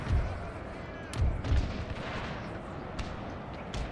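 Round shot fired from cannons in a Total War Thirty Years' War battle with Habsburg forces, several distant dull booms spread irregularly over a low rumble of battlefield ambience.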